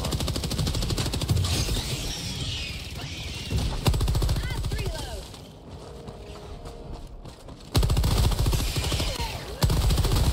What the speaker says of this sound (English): That was a turret.